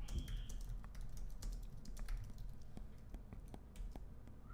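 Someone types on a computer keyboard into Discord, a steady patter of soft key taps over a low background hum, with no talking.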